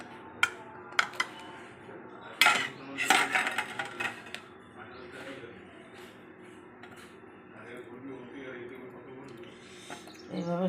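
Fried suji pakodas lifted one by one out of a pan, with sharp metal scrapes and clinks of a utensil against the pan over a quiet sizzle, and someone talking throughout.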